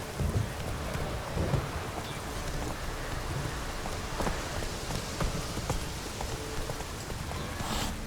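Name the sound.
heavy rain in a video game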